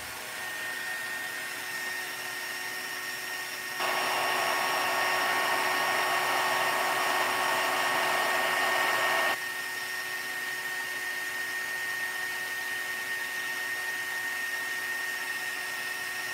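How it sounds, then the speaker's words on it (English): A heat embossing tool blows hot air over clear embossing powder, giving a steady whirring hiss that grows louder for about five seconds midway, then drops back to a quieter drone. Nobody speaks. "And I'll go ahead and heat emboss this one."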